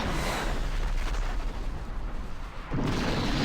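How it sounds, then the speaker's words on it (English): A Vector Torpedo special weapon fires in a modded space combat video game, a loud, dense roaring blast that holds steady for about three seconds and then dips briefly before the rumble resumes. "The Vector Torpedo special is really powerful in Triptychs mod."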